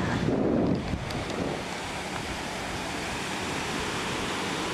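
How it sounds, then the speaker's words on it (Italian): Strong wind buffets the microphone on a Caribbean beach while sea waves wash in, a continuous loud roar with a heavier gust at the start and no voices. "non so se si sente perché c'è il vento"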